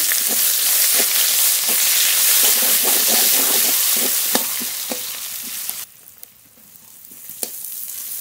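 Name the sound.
frying chopped onion in oil with cumin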